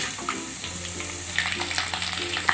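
Coconut pieces and peanuts fry in hot oil tempering for a Khandeshi chili bhaji, a steady close sizzle with soft crackles that grows busier and louder partway through, with no talking.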